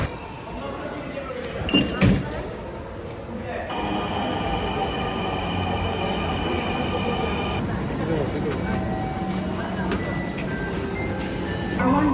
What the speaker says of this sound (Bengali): আমরা এখন মেট্রো দিয়ে যাব হাটে যাব মেট্রো দিয়ে